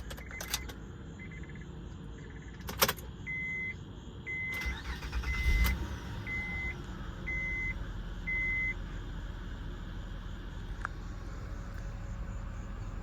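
A 2006 Honda Pilot EX-L with a 3.5-liter J35 VTEC V6 starting up: a few chimes and beeps, a brief crank and catch, then a low, steady idle.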